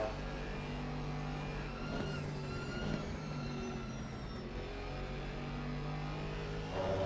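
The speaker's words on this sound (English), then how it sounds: "The grunt of the AMG." Mercedes-AMG GT4 race car in a racing video game at Donington Park, its engine droning steadily and loud throughout with shifting pitch as it accelerates, other car noise mixed in.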